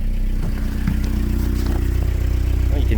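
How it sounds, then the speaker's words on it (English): A 1990 Toyota Hilux pickup engine idles while warming up, heard close and loud as an even, low mechanical rumble with light clatter throughout, and no talking. "So let's go back out to the engine bay and wait till it warms up."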